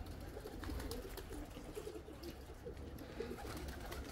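Pigeons coo steadily at close range against a dense outdoor background, with soft flutter and rustle running throughout and no talking.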